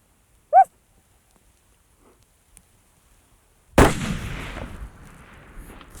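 A single loud rifle gunshot during a South Dakota hunt for whitetail or mule deer cracks out sharply and rolls away in a fading outdoor echo, preceded by a short high call and near silence.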